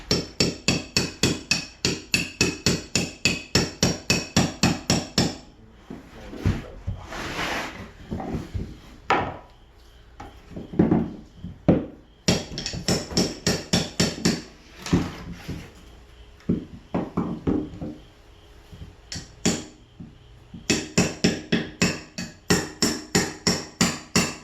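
Repeated hammer blows drive a chisel into wood while a mobile home floor is prepared, coming in rapid even bursts of sharp, close knocks with quieter scraping and handling between the runs.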